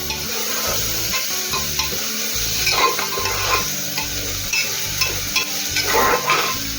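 Dried shrimp (sode) sautéed with raw spices in oil for a village-style sode bhaat sizzle loudly and steadily, while a spatula stirs them in repeated scraping strokes against the pan.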